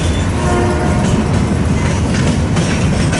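A freight train rumbles steadily past up close, loud continuous rail noise with faint clattering wheels and no voices, on a line thought to be heading toward a rail yard in western Nebraska.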